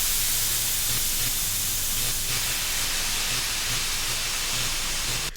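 Steam hisses over faint distant traffic in a sound mix, a broad steady wash of noise with a low rumble underneath, constant and unbroken to the end.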